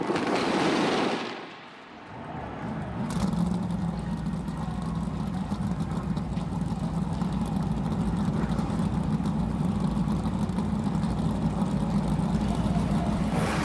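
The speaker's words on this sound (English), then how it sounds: "Drivers, start your engines!" NASCAR race car engines fire up for the Busch Light Clash inside the Los Angeles Coliseum. A loud burst comes first, then a brief dip, then a dense, steady rumble of many engines idling together that continues to the end.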